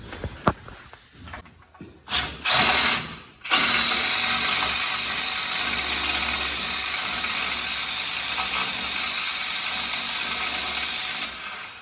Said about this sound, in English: just drill them with a pilot. And then I'll run a step bit through there